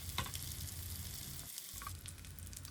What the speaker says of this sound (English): we will add the fish pieces one by one, and we will let it sear on medium heat until they are light golden brown